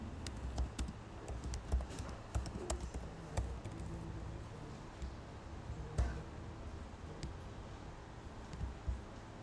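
Fingers tap on a computer keyboard in a quiet room, producing irregular clusters of soft clicks and keystrokes that continue throughout at close range.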